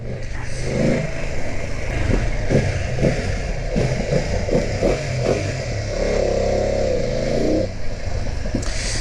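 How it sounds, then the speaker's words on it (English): A 2024 BMW F900 GS Adventure motorcycle engine drones steadily with a stock exhaust, rumbling and revving slightly under constant wind noise during a ride, near and fairly loud throughout. "The sound is not bad for a stock exhaust."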